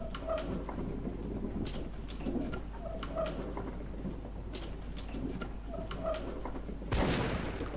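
Pigeons coo softly in the background, then a single sharp, loud gunshot in the video game Metro: Last Light bursts near the end.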